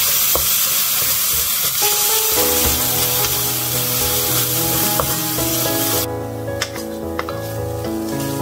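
Cooking wine goes into a hot pan while mapo tofu is being made, and a steady, loud sizzle and frying hiss follows, with some stirring scrapes and a sustained tonal background throughout.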